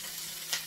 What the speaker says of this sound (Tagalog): So ayan, mainit na siya. Lagay ko na yung aking sibuyas.